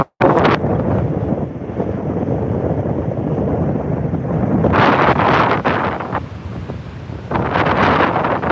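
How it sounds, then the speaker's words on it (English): Strong wind from an October nor'easter in New England buffets the microphone continuously with a loud, roaring rumble that swells and gusts throughout, with no voices. "It's windy."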